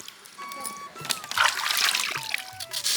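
Radishes rubbed and scrubbed by hand in a vessel of water in a village kitchen, giving irregular close splashes, sloshes and trickles that swell and fade through the moment, with a faint voice underneath.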